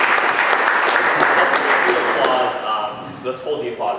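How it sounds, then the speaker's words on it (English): An audience at a university debate on Narendra Modi breaks into loud applause that tapers off, then gives way to a voice speaking over the last scattered claps. "Let's hold the applause until the very end"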